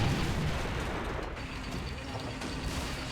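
Cannon shells from a 47mm gun strike a tank's front armor in a WW2 video game, a steady dense rumble of impacts and low booms running throughout, with no clear gaps between hits.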